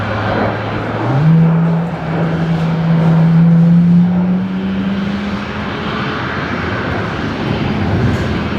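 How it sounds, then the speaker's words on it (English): Fokker airliner passing at Brisbane Airport at night, a loud steady engine roar with a rising drone that holds, then fades into distant jet rumble. "There goes the Fokker."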